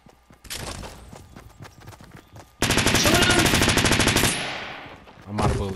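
Rapid automatic gunfire in the video game Fortnite, with scattered single shots first and then a loud sustained burst of close, evenly spaced shots, followed by a pause and a final short burst.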